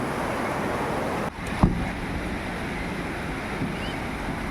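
Water pours steadily at the Huai Chan waterfall in Khun Han, Sisaket, Thailand, a continuous broadband rush with one brief sharp knock partway through, otherwise unbroken.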